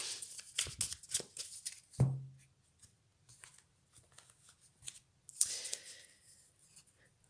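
Oracle cards from a Magic Luna deck riffle and slap in quick bursts, with a sharp snap near two seconds and another flurry of handling toward the end, separated by quiet pauses.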